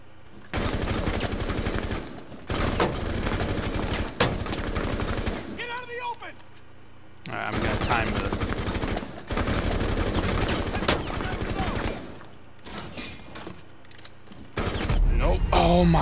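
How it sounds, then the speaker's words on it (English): Gunfire from the tactical shooter game Rainbow Six Siege, loud sustained bursts of rapid automatic shots in several long stretches separated by short quieter gaps, with a voice talking at points. "I missed the majority of my shots"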